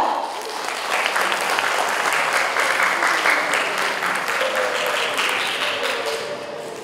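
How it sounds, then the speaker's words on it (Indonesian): Sustained audience applause at a high school graduation ceremony, a dense wash of clapping that swells and holds steady for several seconds before thinning slightly at the end. "Mari kita beri tepuk tangan meriah untuk Ustazah Fitriah Ezra."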